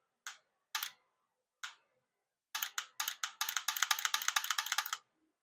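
A Mantis BlackBeardX rifle dry fire trainer gives a few separate sharp trigger clicks, then a rapid run of close, crisp clicks as the trigger is pressed and reset repeatedly in quiet surroundings.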